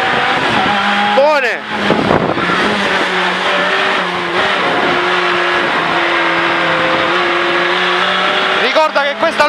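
A Renault Clio N3 rally car engine roars and revs with tires squealing through hard cornering on track, while a voice talks over the loud, continuous motor noise.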